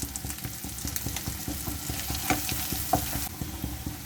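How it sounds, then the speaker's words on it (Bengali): Chili powder fries in soybean oil with a steady, close sizzle broken by quick, regular stirring scrapes and a few sharper pops, and no voices. "তারপর দিয়ে দেবো 1 চামচের মতো সয়াবিন তেল। দিয়ে দেবো 1 চামচ মরিচ পাউডার"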